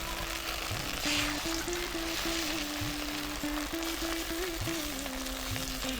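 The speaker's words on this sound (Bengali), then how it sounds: "আগে আমি সব ডিমগুলোকে ভেজে নিই" Eggs fry in a kadai with a continuous crackling sizzle, joined by a faint steady hum and occasional soft knocks.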